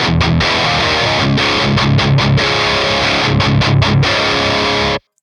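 Crunchy overdriven electric guitar tone played through a Fishman pickup on its passive voicing. Loud, dense, chugging strums with rhythmic muted gaps, solo with no voices, cut off sharply at the end.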